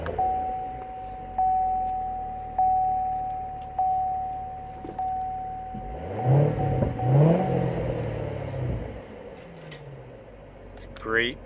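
A 2018 Chevrolet Corvette Z06 convertible fires up after a series of evenly spaced warning chimes, then its engine roars through several loud, rising revs before settling to a rumbling idle.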